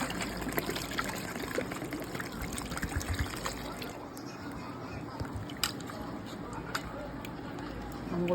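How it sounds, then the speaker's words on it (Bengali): Water trickles and splashes steadily as mangoes are washed, with someone talking over it. "আমগুলোকে ভালো করে বোটাগুলো ছাড়ানো হচ্ছে, ধোয়া হচ্ছে"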